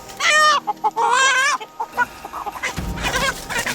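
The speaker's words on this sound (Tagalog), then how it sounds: "Nakalupad na manok." A white chicken clucks loudly and close up in a rapid string of calls, with scuffling and background noise joining toward the end.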